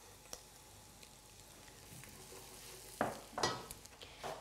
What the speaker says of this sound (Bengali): এবার আমি এতে দেব মিহি করে রসুন কুচি,